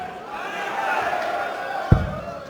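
A German crowd at a PDC darts match in 2014 roars and cheers in a steady, dense wash of voices, with one sharp thud cutting through near the end.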